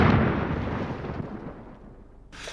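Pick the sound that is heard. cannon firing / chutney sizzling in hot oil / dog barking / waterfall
cannon firing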